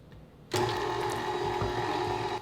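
A stand mixer with a dough hook switches on abruptly and kneads snow skin mooncake dough, its motor whirring loudly and steadily with a faint mechanical rattle, no talking.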